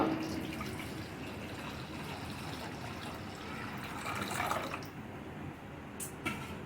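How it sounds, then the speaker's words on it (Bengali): Strained watermelon juice being poured into a kadai, heard as a steady, fairly quiet liquid stream and trickle close by, with no talking. "এখানে নিয়েছি একটা কড়া কড়ার মধ্যে রসটা ঢেলে দিব"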